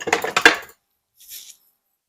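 Food tipped into a pan for a one-pan Cajun chicken pasta: a short burst of clattering, scraping contact up close for under a second, followed by a faint brief sizzle-like hiss, with no talking.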